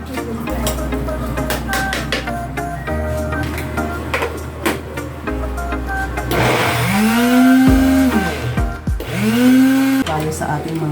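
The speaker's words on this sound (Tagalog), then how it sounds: "Gumamit na ako ng blender para mas mabilis." An electric kitchen blender whirs loudly in a home kitchen while preparing lumpia shanghai filling, its motor whine rising and pulsing in two bursts after a stretch of talk and clatter.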